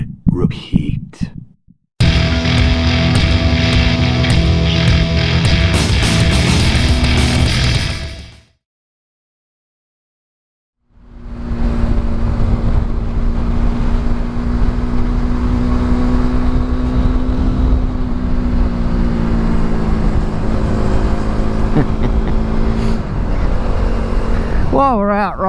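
Motorcycle heard while out riding, a loud, steady engine and wind drone that cuts to silence for a few seconds before returning at a similar level with a rising tone.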